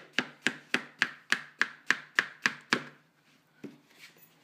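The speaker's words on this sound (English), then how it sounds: "So I'm just kind of slicing these up some, not small slices, pretty decent sized slices actually." A knife slices vegetables for beef stroganoff into fairly large pieces on a cutting board, producing about ten evenly spaced, crisp chops, then a pause and one or two fainter cuts.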